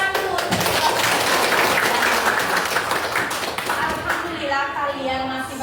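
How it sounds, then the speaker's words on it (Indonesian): Students clapping in a classroom economics lesson, a dense burst of hand claps that fades out as voices and talk take over near the end. "Tepuk tangan dulu."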